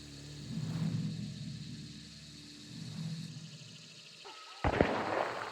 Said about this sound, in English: Suddenly, a gunshot could be heard from the direction of the farm